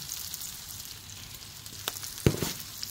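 Garlic and onion sizzle in a pan with a crackling hiss, and a couple of sharp clanks of a utensil sound up close.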